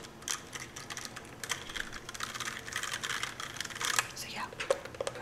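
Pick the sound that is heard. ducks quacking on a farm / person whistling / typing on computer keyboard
typing on computer keyboard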